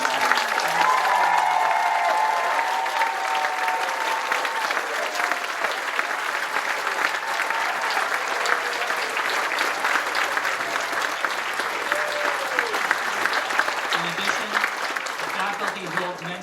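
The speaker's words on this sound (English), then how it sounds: "Graduates, please rise to face your parents, family, and friends, and loved ones, and join us in a round of applause" At a university graduation ceremony for art history and classics students, the audience claps for parents, family and friends. The sustained crowd applause runs throughout with some cheering and voices mixed in.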